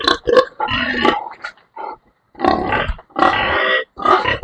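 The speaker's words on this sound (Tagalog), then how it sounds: "Mga biik. Puntahan natin." Young piglets on a farm pen grunting and squealing close by in several bursts separated by short pauses, loud and with no talk.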